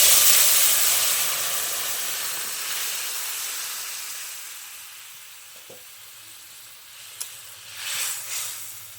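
Vegetables hit hot oil tempered with spices, giving a loud sizzle that gradually fades over several seconds, with a few clinks and a short burst of renewed frying near the end.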